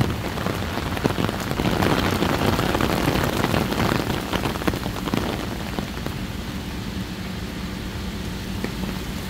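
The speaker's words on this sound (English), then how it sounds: "So I thought it was a passing thunderstorm, but now it started to rain" Heavy thunderstorm rain pours down along Central Park West in New York City, a dense, steady hiss of drops on pavement and surfaces, loudest early and easing slightly later, with no voices.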